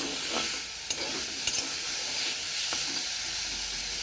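Jute leaves fry in a pan with a close, continuous hissing sizzle and steam, punctuated by a few faint scraping stirs; no voices are heard.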